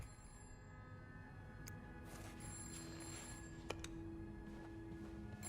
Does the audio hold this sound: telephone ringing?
yes